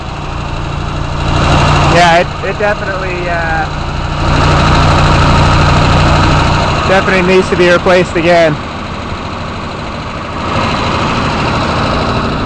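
A small engine idles steadily with a rough, throbbing rumble, heard at the tailpipe with the choke out before warm-up, while someone talks briefly over it.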